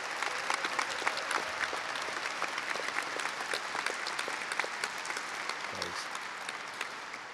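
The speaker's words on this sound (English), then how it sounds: "can we please give the parents another round of applause?" A graduation audience at a high school ceremony applauds in a steady, dense wash of clapping that continues evenly throughout, heard from within a large hall.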